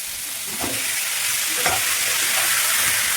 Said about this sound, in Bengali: আমটাও ঠিক এভাবে ভেজে নিতে হবে